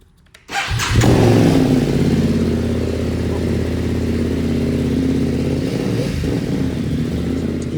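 A 2021 BMW F900R motorcycle with a replacement exhaust, baffles in, fires up after a brief quiet moment, then idles loudly and steadily up close with a throaty, even exhaust rumble.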